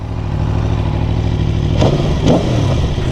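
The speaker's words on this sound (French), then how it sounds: "Le moteur fait plus de bruit, hein." A 2018 Aprilia Tuono V4 motorcycle engine drones loudly and steadily at close range, with two brief throttle blips rising out of the sustained roar.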